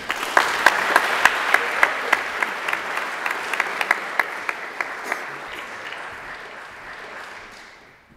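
A school audience at a Beta Club induction ceremony applauds with a broad wash of clapping and a few sharp individual claps standing out early, then gradually fades to silence over about eight seconds.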